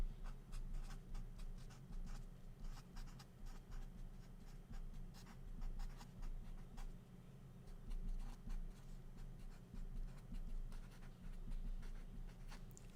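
Pen or marker writing by hand during a lesson on measurement uncertainty, a steady soft scratching that runs continuously for several seconds, close and quiet with no voice over it.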